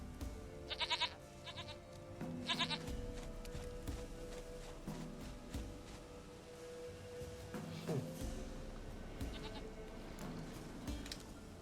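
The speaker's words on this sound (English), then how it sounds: "Goat of mine, dearest, sweetest goat." Goat bleats in The Witcher 3: Wild Hunt, a few loud wavering calls in quick pairs near the start with a softer one later, over a busy game soundscape of ambient tones and background rumble.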